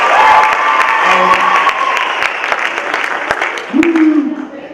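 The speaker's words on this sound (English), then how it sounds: "Give her a round of applause for that." Applause from an audience at a high school Hall of Fame induction ceremony held by a Hispanic culture club, a steady spread of clapping that lasts the whole clip with a voice speaking over it.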